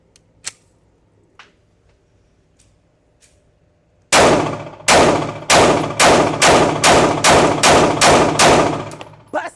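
A CZ P-10C pistol with a compensator and ported barrel fires a rapid string of about ten sharp, loud shots in quick rhythm, following a few faint metallic clicks and handling sounds beforehand.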